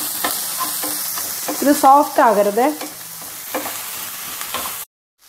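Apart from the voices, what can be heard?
stir-frying sliced vegetables in a pan for spring rolls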